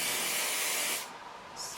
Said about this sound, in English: And then I've got the ORS Olive Oil Fix It Super Hold Spray